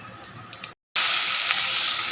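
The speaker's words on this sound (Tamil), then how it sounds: "எண்ணெய் நல்லா சூடு ஊற்றுதும் கொஞ்சோண்டு சோம்பு போட்டுக்கலாம்." Loud, steady sizzling of fennel seeds dropped into hot oil, starting abruptly after a brief silence and crackling continuously without voices.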